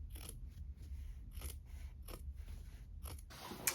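Scissors snip through fabric for a sewn bag in a series of short crisp cuts, spaced roughly half a second apart, close and fairly quiet over a low room rumble, with a brighter rustle of cloth at the end.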